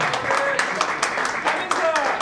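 At a Guru Purnima stage event held by a karaoke class, an audience applauds, a run of brisk, uneven claps with a voice talking over them.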